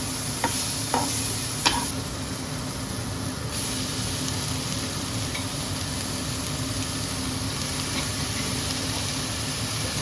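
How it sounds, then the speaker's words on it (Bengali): Leafy greens hiss and sizzle steadily in a pan as they are stir-fried, with a few sharp scrapes and clinks of the utensil early on over a continuous frying noise. "তারপরে শাক নিয়ে খুব ভালোভাবে শাকটাকে কষাতে হবে"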